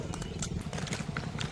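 A mare walks along a road with steady clip-clopping hooves close by, the rhythmic knocks running over a low continuous rumble.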